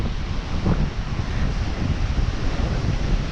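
Waves washing onto a deserted beach at Hamlin Bay, Australia, as the tide comes in, a continuous broad roar of surf mixed with wind buffeting the microphone.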